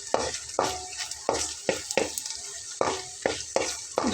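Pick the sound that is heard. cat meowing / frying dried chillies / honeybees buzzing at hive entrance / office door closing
frying dried chillies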